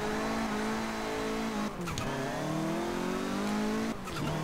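Honda Civic RS with a swapped engine in Forza Horizon 4, its simulated engine note climbing steadily under hard acceleration, loud and close, with two quick gear-change breaks before the revs rise again.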